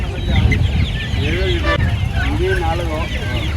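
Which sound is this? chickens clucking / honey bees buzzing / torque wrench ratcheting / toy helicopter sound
chickens clucking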